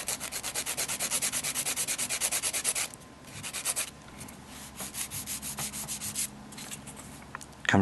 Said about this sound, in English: We're going to begin to file the nail up toward the dome of the nail.